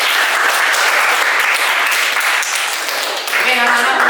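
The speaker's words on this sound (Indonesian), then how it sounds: "Tepuk tangan dulu." Students in a school classroom clap together in sustained, dense applause that stays close and loud throughout, with a few voices chattering faintly underneath toward the end.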